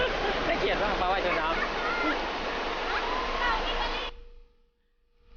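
Si Tat Ton waterfall rushes in a loud, steady broadband roar heard from its top, with people talking over the water before the sound abruptly cuts away to near silence.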